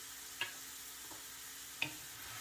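Ground turkey seasoned with salt and pepper frying in a pan, a steady faint sizzle with two small sharp ticks of stirring against the pan.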